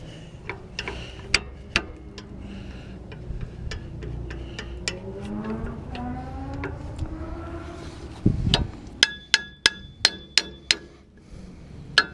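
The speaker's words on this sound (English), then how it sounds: "Hammer this thing" Sharp metallic hammer strikes on a rear brake rotor of a 2007 Ram 1500 ring out at irregular intervals, with a quick cluster of loud blows near the end; a clanging, resonant tone lingers between hits.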